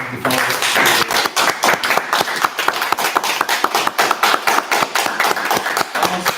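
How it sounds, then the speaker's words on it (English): A round of applause at an undergraduate student senate meeting: a small group claps in a quick, even rhythm, each sharp clap distinct, continuing steadily without voices. "So I also just wanted us to maybe give a round of applause."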